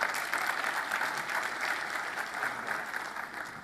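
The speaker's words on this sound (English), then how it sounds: "Let's introduce, hand applause for Pankaj." Steady applause from a conference audience welcoming a guest speaker onto the stage at a Microsoft Azure Stack hybrid cloud session, dense, even clapping filling the room throughout with no talking over it.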